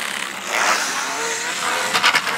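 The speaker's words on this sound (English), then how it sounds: "The noise is from the drive shaft." A WLtoys 144010 RC car running with a bent center drive shaft gives a loud, close, whining buzz from its drivetrain, rising and wobbling briefly near the end.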